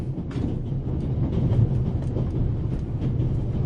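A train runs steadily in the video game The Raven Remastered, a continuous low rumble with faint rhythmic rattling, loud and close, with no talk over it.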